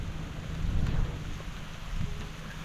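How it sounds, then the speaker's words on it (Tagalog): Steady rain falls in a continuous dense hiss with low rumbling swells, heard close and alone with no voices. "Pero yan, umuulan."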